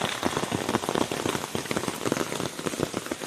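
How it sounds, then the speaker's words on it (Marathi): Rain patters steadily on surfaces nearby in woodland in Konkan, India, a dense, irregular drumming of drops with no voices. "पाऊस पण सुरू झाला आहे"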